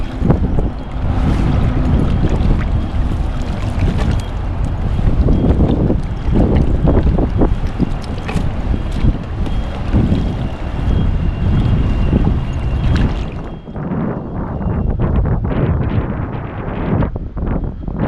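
Strong wind buffets the microphone in a loud, steady roar with gusty rumbling throughout, easing slightly near the end, outdoors among damaged houses after an earthquake.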